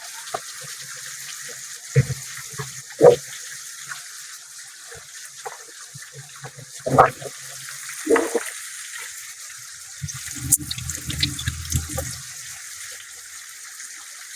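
Water runs and splashes as fish are washed, with scattered clunks and knocks of handling and a denser burst of splashing near the end.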